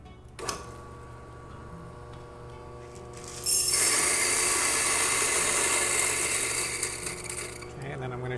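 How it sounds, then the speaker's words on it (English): Coffee beans being ground to a coarse grind for French press coffee outdoors, a steady loud grinding whir starting a few seconds in and running continuously after a brief click and quieter mechanical ticking. "we're going to grind our coffee coarse. We're going to go on a coarse grind."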